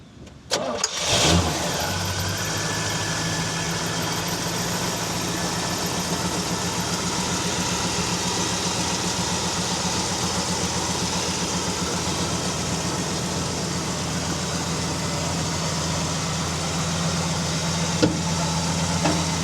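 A 1973 Pontiac LeMans Sport Coupe engine cranks and catches, then settles into a steady, close idle with a low rumble that continues for the rest of the clip.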